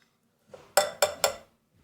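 Utensil tapping and scraping in a bowl while egg baby food is stirred: three sharp clinks in quick, even succession after a soft scrape, close and fairly quiet.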